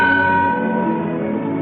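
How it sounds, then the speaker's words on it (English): A single ship's bell strikes once, loud and close, its bright metallic tone ringing on and slowly decaying without any talk. "Sound the bell once."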